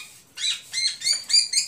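Bright, high chirping calls of a green leafbird and a magpie robin, both female, kept in one house, in several short bursts with brief gaps between them, clear and fairly close, with no voices.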